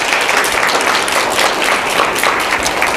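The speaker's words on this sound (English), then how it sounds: "So can you give them a nice round of applause," Loud, dense applause from a community presentation audience, a close wall of many hands clapping steadily throughout without speech.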